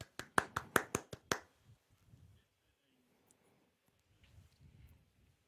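About seven crisp, sharp hand claps in quick succession from a single person during a live-streamed music quiz, close and clear, followed by quiet rustling and faint murmurs.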